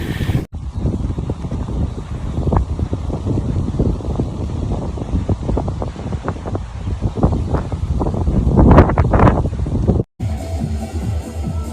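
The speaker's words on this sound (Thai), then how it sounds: "ลม แรง" Strong wind roars and buffets the microphone during a cold, rainy trail run at Khlong Maduea, a loud, steady rumble with rising gusts that cuts off abruptly near the end.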